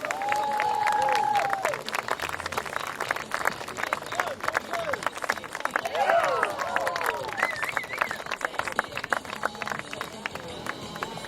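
Crowd applause and cheering for cyclists at a show, sustained rapid clapping with a lively crowd and some voices over it, loud and steady throughout.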